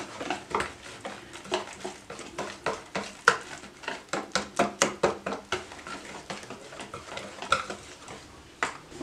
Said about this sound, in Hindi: अच्छी तरह से मिक्स करें।